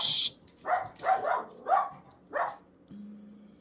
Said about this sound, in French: Mon petit chien n'arrêtait pas de japper.